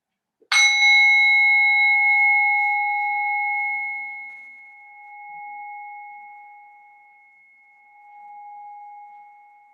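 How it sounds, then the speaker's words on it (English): A meditation bell rings once at the close of a yoga practice: a sharp, bright strike followed by a long, pure, slowly fading tone that pulses gently as it decays in a quiet room. "In a moment, you'll hear the sound of the bell"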